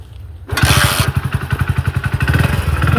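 A Hero Splendor Plus 2023 motorcycle engine is kicked over and catches after a short pause, then runs with a loud, rapid, steady chugging idle close by.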